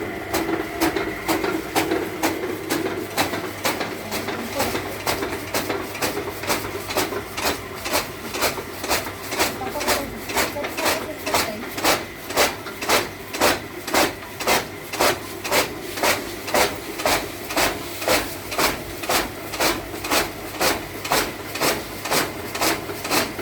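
A chaff cutter chops leftover fodder with a dulled blade, giving a steady run of rhythmic rasping strokes, close and loud, that grow more regular and continue throughout without talk.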